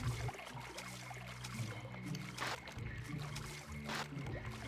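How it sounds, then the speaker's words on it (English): Water seeping and trickling in the video game Deus Ex, a steady low wash with soft dripping, brief brighter splashes rising out of the constant flow. "I love that water. Sounds like seepage."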